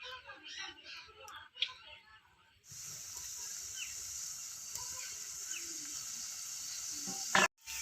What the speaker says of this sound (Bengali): আমি এক এক করে ভেজে নেব।